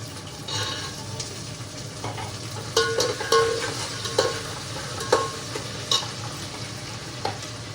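Onions, green chillies and peas fry in hot oil with a steady close sizzle, broken by repeated scraping and clinking as a spoon stirs them around the pan at an uneven rhythm.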